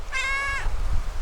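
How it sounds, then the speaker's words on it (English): A male cat on a remote island lets out a single clear meow, fairly close and alone, followed by low background rumble. "This is Chica, the boy cat."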